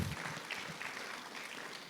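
A church congregation applauding, a continuous dense spatter of clapping from many hands, fairly faint and distant throughout.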